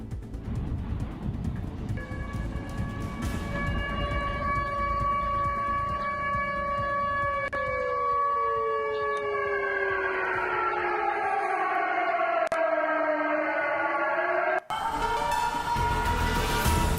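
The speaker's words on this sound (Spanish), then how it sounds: "así se escuchan las sirenas, ¿cierto?, de evacuación, primero en Rusia" Tsunami evacuation sirens wailing across a town in Russia, several sustained tones heard from a distance that hold steady and then slide downward together, with steady background noise throughout.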